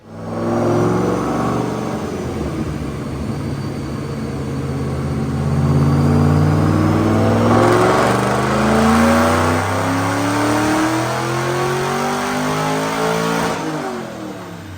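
A supercharged 2008 Mustang Shelby GT with a Paxton blower and manual transmission roars through a full dyno pull, its engine note climbing steadily and loudly for about fourteen seconds before dropping off at the end.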